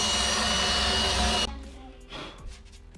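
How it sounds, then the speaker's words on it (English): A power drill pre-drills screw holes with a drill bit for a floating wall shelf, a loud close whirring burst that stops abruptly, followed by quieter handling noises. "Screw first, pre-drill with a drill bit, say 2mm less than the actual screw itself."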